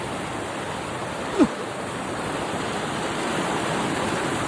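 Forest stream water in Kadambur rushes steadily as a broad, even wash close by, with no talking over it.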